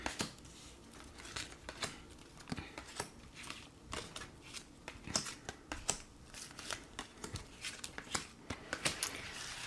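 Tarot cards being shuffled and drawn: a quiet, close series of crisp riffling snaps and papery slides at an irregular rhythm, with no talking.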